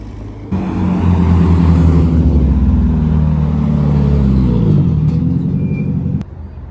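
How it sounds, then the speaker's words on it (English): Ferrari Testarossa rolling into the Daikoku parking area, its flat-twelve engine a close, loud, steady rumble that rises as it passes, then cuts away abruptly near the end. "A little Testarossa rolling in."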